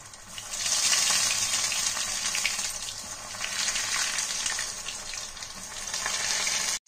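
Breadcrumb-coated curd kebab balls deep frying in hot oil, a loud, steady, hissing sizzle that swells and eases slightly and then cuts off abruptly at the end.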